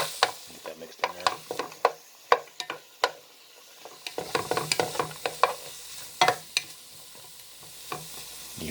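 Cabbage and kielbasa sizzle and crackle in a hot pan close by, with scraping and clacking as it is stirred, no voices.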